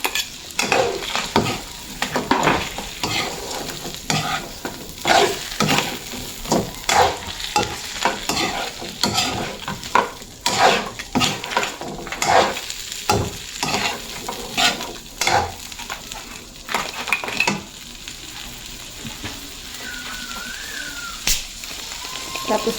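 Crabs and shrimp stir-fried in a pan sizzle and crackle, with repeated scraping and clattering of a utensil against the pan in irregular strokes, close and fairly loud.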